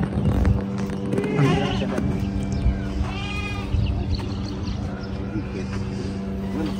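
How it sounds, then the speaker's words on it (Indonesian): Goats bleat several times amid a busy outdoor livestock-buying scene, with people talking over a steady low hum. "jadi itu sudah milih tadi 4 ekor kambing."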